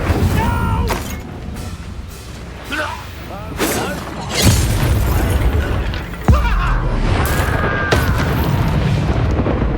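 Fiery spell blasts from Hogwarts Legacy burst in repeated booming explosions with crackling tails over game music, while a voice calls out between the blasts.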